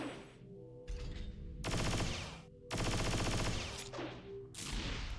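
Rapid automatic gunfire from .hack//G.U. Last Recode comes in loud bursts. The rattling volleys start and stop several times over a few seconds, and quieter gaps of game music fall between them.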